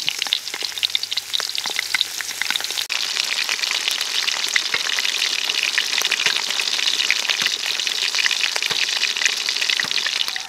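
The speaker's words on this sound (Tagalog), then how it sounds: "Mag-strike na tayo magpe-prito mga kagutom." Butter and onions sizzling in a hot pan while cooking costillas, a steady loud crackling fry with popping spatters that keeps going throughout, with no voices.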